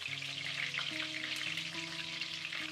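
Food frying in hot oil in a kitchen pan gives a steady, close sizzle that stays even throughout, with no voices.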